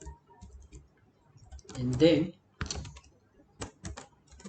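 PHP code being typed on a computer keyboard in a few short, sparse clusters of close keystrokes and clicks, with someone talking between them.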